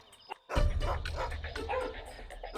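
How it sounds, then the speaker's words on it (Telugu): Neighbouring dogs barking at night, a burst of loud close barks and yips after a brief quiet moment, continuing with whimpering tones. "ఈ పక్కింటి కుక్కలు నిద్రపోవడం లేదు."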